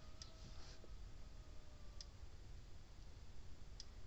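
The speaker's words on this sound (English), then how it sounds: "Hear it clicking." A Gallagher solar fence charger ticks outdoors at night, giving sharp, faint single clicks spaced roughly two seconds apart over a steady low background hum.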